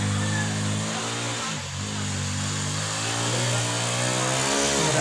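Motor engine labouring and struggling, a steady droning rumble with a slight dip partway through before it picks back up, close and fairly loud throughout.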